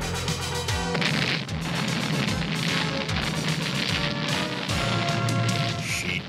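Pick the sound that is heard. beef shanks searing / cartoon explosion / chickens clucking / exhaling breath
cartoon explosion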